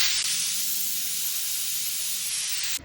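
A pressure cooker cooking moong dal releases a loud, sustained hiss of escaping steam, close and steady for nearly three seconds before cutting off abruptly at the end.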